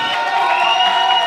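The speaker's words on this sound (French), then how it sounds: "Un tonnerre d'applaudissements" Festival crowd at an outdoor Fête de la musique 2022 stage cheers and applauds in a loud, continuous wash of clapping and shouts, steady and close throughout.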